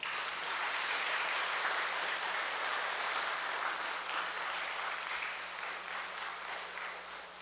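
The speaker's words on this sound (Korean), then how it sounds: "우리 박수로 맞이하겠습니다." A church congregation at a Wednesday evening service claps to welcome a university president to the pulpit, sustained even applause for several seconds that fades slightly at the end, with a faint steady hum beneath.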